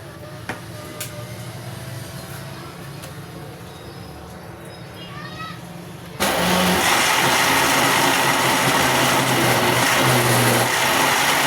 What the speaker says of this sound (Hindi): अब इसको जग में डाल के इसको ग्राइंड कर लेते हैं।